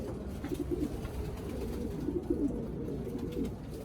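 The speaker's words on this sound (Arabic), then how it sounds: "هفرجكم على مجموعه كبيره قوي من الحمام الغزار" Domestic pigeons cooing steadily in a loft, a low murmuring chorus of soft rolling coos that carries on without pause, fairly close and even in level with no talk over it.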